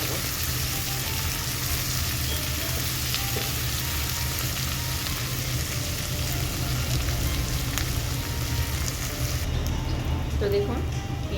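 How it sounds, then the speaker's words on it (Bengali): Chopped onions frying in oil in a pan while making a sea crab curry, giving a steady, close, continuous sizzle throughout. "তো দেখুন পেঁয়াজটা খুব ভালো করে ভাজা ভাজা হয়ে গেছে আমার"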